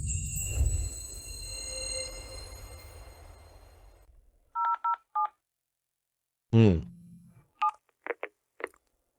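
Telephone keypad tones beep in two short pairs, then after a pause a few more quick dial beeps follow, clear and close, with a low rumbling hum and a steady high whine fading out first.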